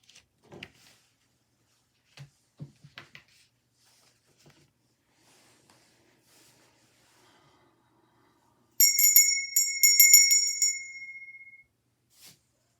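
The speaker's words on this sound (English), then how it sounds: "That's why I rang that bell." A small bell rings to clear energy after a group reading session, several bright close strikes shimmering for a few seconds after long near-silence with faint handling noises.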